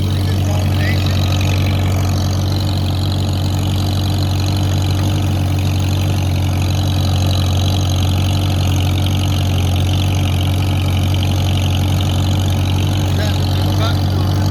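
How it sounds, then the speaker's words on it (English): A John Deere 606 tractor engine idles steadily, a low, even droning hum that holds without change throughout, loud and close, with a faint voice underneath at times. "John Deere 606"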